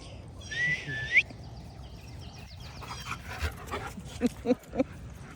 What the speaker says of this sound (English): Dogs exercising early in the morning when it's nice and cool.